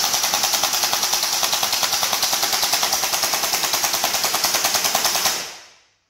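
A JinMing AK47 J11 toy gel blaster fires a full magazine in automatic mode, a steady rapid rattle of evenly spaced shots with a motorised gearbox whir, close and loud, ending abruptly.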